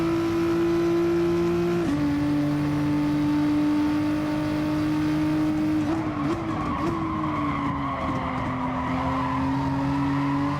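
Corvette engine in Gran Turismo Sport at Monza, a steady loud drone that drops in pitch with a downshift near two seconds, then wavers with throttle changes and tire noise through the corner.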